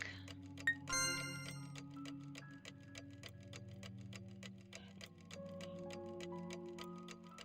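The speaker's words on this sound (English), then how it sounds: "Listening closely, I could tell it was the sound of a clock," A clock ticks steadily in the Heart no Kuni no Alice visual novel, evenly spaced ticks over soft sustained music tones, with a brief chime near the start.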